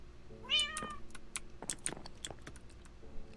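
A cat meows in a video game, one clear rising-and-falling meow near the start, with soft keyboard clicks and faint game sounds continuing underneath.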